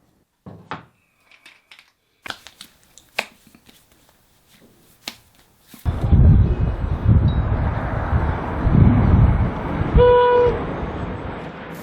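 A Mugunghwa passenger train gives a short horn toot over the steady rumble of the moving carriage, after a stretch of sparse clicks and knocks in near silence.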